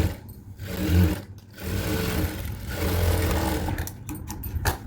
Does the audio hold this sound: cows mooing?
no